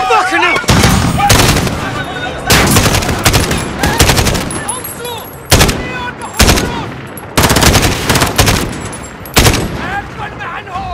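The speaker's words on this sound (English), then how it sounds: "The gunshots, of course." Heavy gunfire in a Call of Duty battle: dense bursts of automatic weapons and single loud shots hammer in repeated clusters with brief gaps, close and loud throughout.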